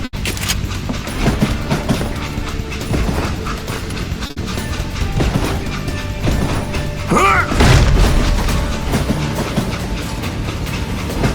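A moving train in the Call of Juarez Gunslinger video game, with a dense, continuous rumble of rolling wheels and rattling, clacking carriage mechanisms, loud and close throughout.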